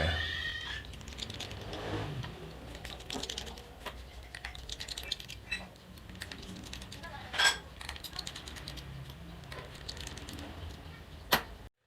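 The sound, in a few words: unscrewing phone screws with a Phillips screwdriver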